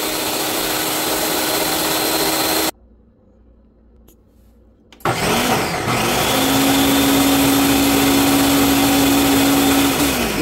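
A blender loudly whirs through a soursop flan mixture, running steadily, cutting out for about two seconds, then restarting with a sustained motor drone and a rising whine near the end.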